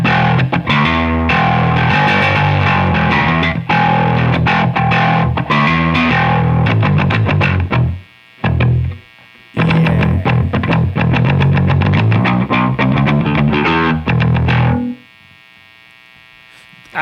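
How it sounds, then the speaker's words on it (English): Bass guitar driven through the distortion side of a Barber Electronics Gain Changer pedal, gritty palm-muted riffing in loud bursts with two brief gaps, then a ringing tail fading out. "Hit me with the distortion side for a little bit."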